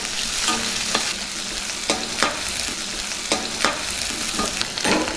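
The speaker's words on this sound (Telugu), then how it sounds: "ముందుగా కట్ చేసి పెట్టుకున్న ఉల్లిపాయ ముక్కలు వేసుకుందాం దీన్ని బాగా కలుపుకుందాం" Chopped onions sizzle steadily in hot oil with tempering spices in a pan for a Telugu spring onion and chana dal curry, with a spoon scraping and stirring in several sharp strokes throughout.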